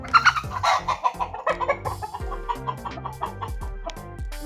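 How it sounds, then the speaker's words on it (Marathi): Farm chickens cluck nearby in a quick, uneven series of short calls, overlapping at the start and then settling into a steady pecking rhythm, with no speech. "मित्रांनो हे आमच्या शेतातल्या कोंबड्या."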